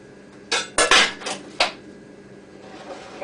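A filter pressed into a juicer's dry inner cylinder, a quick cluster of clattering metallic clicks and scrapes, close and loud, followed by quiet handling.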